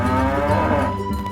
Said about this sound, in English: And here is the Simmental cow and the bull.